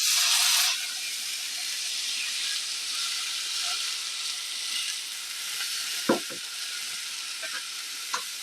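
Bone broth hits a hot pan with a sudden loud sizzle, then settles into a steady hissing simmer, with a few knocks of a utensil near the end.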